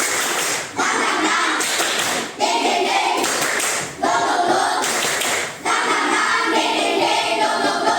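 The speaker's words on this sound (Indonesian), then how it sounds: "biar makin semangat, kita tepuk semangat ya. Tepuk semangat." Students in a classroom lesson perform a tepuk semangat clapping chant, beating out loud patterned clap sequences in bursts with brief pauses between phrases, some voices mixed in.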